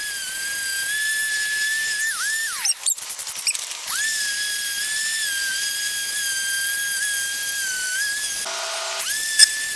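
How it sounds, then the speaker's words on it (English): An electric sander with 60 grit paper cleaning mortar off the outside of bricks on a wood-fired pizza oven, producing a steady high-pitched whine that dips briefly as the tool is pressed or lifted, close and continuous. "I went ahead and took my sander and cleaned out the outside of the bricks"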